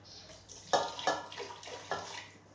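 Water is poured into a large pot of pumpkin puree for pumpkin bread dough, a few splashing gushes and a faint trickle close by, with no voices.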